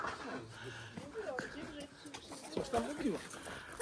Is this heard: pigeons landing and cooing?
yes